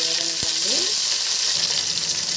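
Onions and ginger-garlic paste fry in a pan for a fish curry, a dense close sizzle that carries on without a break, with a brief clink and a light stirring scrape partway through.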